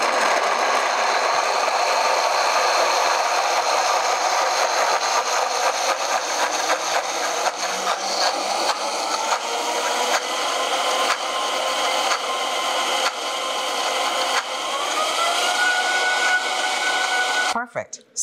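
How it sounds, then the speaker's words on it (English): A food processor whirs at full speed while blending a cashew cheese sauce, a loud, steady buzzing drone with faint rattling that runs unbroken and cuts off abruptly at the end. "we are now just going to put it in the processor just to do its thing"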